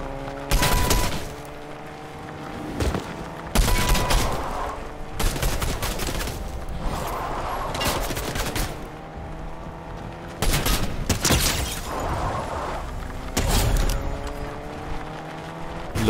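In Fortnite, loud gunfire cracks out in separate bursts of several rapid shots each, with short quieter gaps between the volleys.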